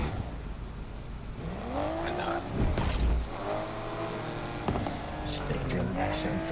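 A loud car engine in the racing game NFS Unbound revs and shifts through rising and falling tones during a car meet, with a Hellcat Charger and boosted NSX present and people talking over it.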